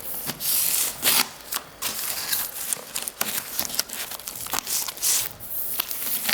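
Protective film peeled slowly from the adhesive backing of foam spacer tape during snap-together parquet installation, giving a continuous crackling, tearing rasp close by with uneven bursts of intensity.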